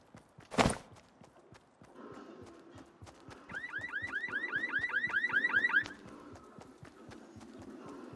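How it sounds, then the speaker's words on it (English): A car alarm in the Fortnite video game blares a rapid, repeating chirp for a couple of seconds, accompanied by steady in-game footsteps and background game ambience. "They made the car alarm go off on this car."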